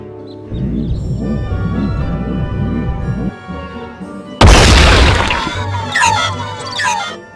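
A spell being cast in the Harry Potter and the Chamber of Secrets PS1 video game: a sudden loud magical burst with sparkling chimes cuts in after a stretch of music, then rings out over the game score.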